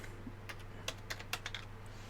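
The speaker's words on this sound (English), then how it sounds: "Let me grab my keyboard back and do some typing, and I'll put it in there." Someone types on a computer keyboard, irregular crisp keystrokes spaced out over about two seconds, moderately close, against a constant electrical hum and background hiss.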